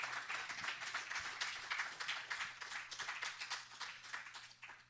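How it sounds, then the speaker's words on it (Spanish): A church congregation claps together in a rhythmic, pulsing applause that keeps a steady beat, fairly faint and distant, gradually tapering toward the end. "Dale un aplauso al Señor"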